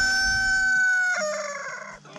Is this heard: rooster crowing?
yes